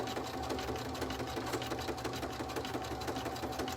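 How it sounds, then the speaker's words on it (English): An embroidery machine stitches the bottom of a wallet pocket in-the-hoop, giving a steady, rapid mechanical stitching rattle with a constant motor hum throughout, close and even in level with no talking. "we are stitching the bottom of the third pocket"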